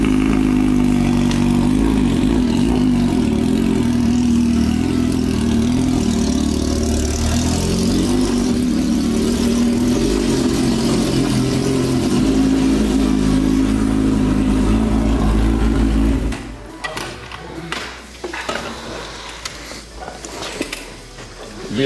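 A Honda CB1000 motorcycle engine revs hard and loud up close, a sustained throaty drone that holds for most of the time before cutting back to a lower, uneven idle near the end.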